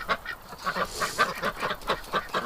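Ducks in a spring breeding pen quack and honk in quick repeated calls, moderately close, with several birds overlapping.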